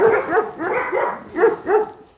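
A German shepherd found in a forest barks close and loud, five sharp barks in an uneven rhythm with short whimpering tones, heard alone without talk.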